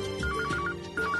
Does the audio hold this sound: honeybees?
no